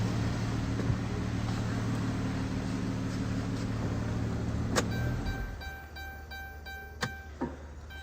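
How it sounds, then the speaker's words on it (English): A 2015 Dodge Grand Caravan running steadily, then its engine shuts off about five seconds in, leaving a quiet cabin with faint electronic tones and a couple of sharp clicks. "Let me shut the car off."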